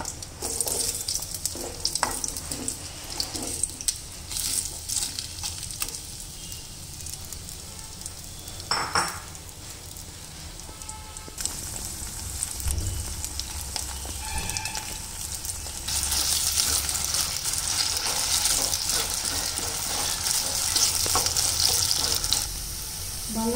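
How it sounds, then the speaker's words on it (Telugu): Potatoes sizzle in about four spoons of oil in a pan, a steady crackling fry that runs throughout and swells louder toward the end, with occasional stirring and no talking. "బంగాళదుంపలు ఎర్రగా వేగినాయి"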